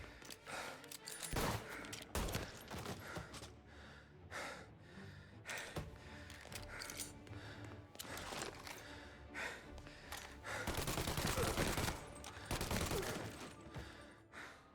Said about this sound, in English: The Tommy gun is a bit hit and miss.